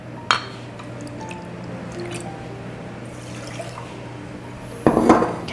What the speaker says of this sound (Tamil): கப் தண்ணி போட்டுக்கோங்க